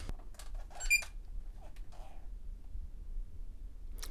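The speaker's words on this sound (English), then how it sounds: "Little beep." A Spektrum Firma brushless ESC on a Jeep Cherokee RC crawler gives short electronic beeps as it powers up, faint against a quiet room, with brief bursts of speech around it.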